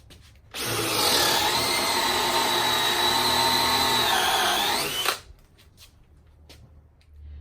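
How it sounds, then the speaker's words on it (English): A power drill whines loudly and steadily for about four seconds, grinding into material while pre-drilling anchor holes, then stops, leaving quiet room noise. "now we are ready to start pre-drilling our holes for the installation of our anchors"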